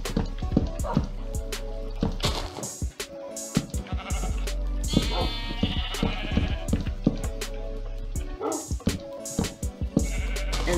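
Sheep bleat repeatedly in the Minecraft video game, near and fairly loud, with several overlapping calls and clicky game sounds in between, no talk.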